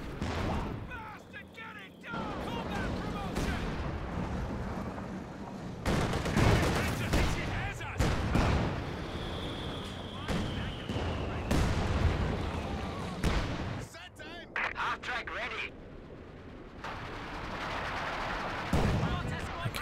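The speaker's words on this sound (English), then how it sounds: "So taking some long range shots on that mortar team." A Company of Heroes 2 battle rages with dense bursts of gunfire, machine-gun rattles and heavy artillery booms, rapid irregular blasts throughout, while a commentator talks over the combat.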